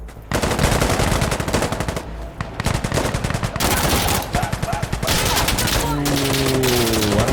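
SMG gunfire in the tactical shooter Insurgency: Sandstorm: loud, rapid automatic bursts fired almost continuously at close range, with a brief pause and a voice heard near the end.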